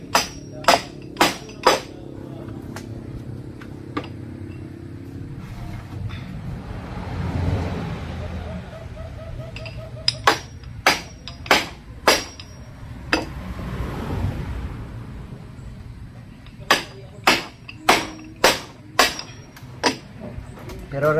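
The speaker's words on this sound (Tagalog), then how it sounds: "Buti na lang at may reserva tayong martilyo." Hammer blows ring out while a hut is being built, struck with a spare hammer in sharp, close clusters of quick strikes at the start, middle and end, with quieter rustling and background noise between the bursts.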